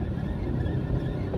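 A car engine runs steadily in second gear at a low 1,500 RPM, giving a continuous, even low rumble with broad road and cabin noise and no talking.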